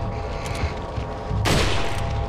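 Gunfire in Resident Evil 4: a loud burst of shots near the one-and-a-half-second mark over a steady game soundscape, no talking.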